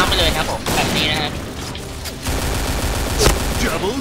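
Gunfire from an AK-47 Goddess rifle in a video game, with dense overlapping bursts of shots and mechanical clatter running through the clip and a sharper crack near the end, under a man's speech.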